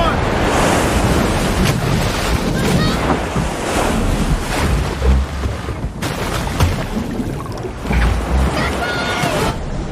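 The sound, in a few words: big ocean waves crashing into a boat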